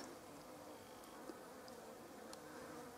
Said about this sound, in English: Absolutely full of bees and wasps and other things